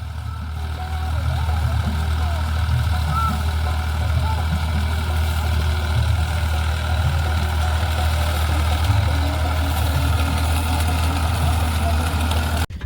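A tractor engine idles in a field with a steady low rumble, continuous and close, holding an even drone throughout before cutting briefly at the very end.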